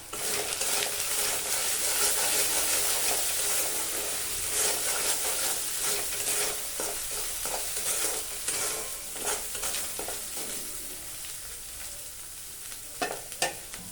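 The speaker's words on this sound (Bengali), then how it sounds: "এবার একটু এটা ভাজবো।" Spices with salt and turmeric fry in a pan for a Bengali egg and potato curry, a steady loud sizzle with scraping stirring strokes throughout, a few sharper clicks near the end.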